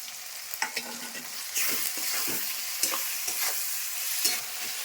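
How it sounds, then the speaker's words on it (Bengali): A vegetable curry with mustard-poppy paste and green chillies stirred in a pan, a soft sizzle broken by repeated close scraping strokes of a spatula, steady and unaccompanied by speech. "নেড়ে চেড়ে একটু ঢেকে দিব"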